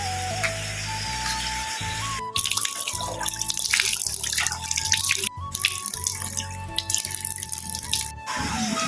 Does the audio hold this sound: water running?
yes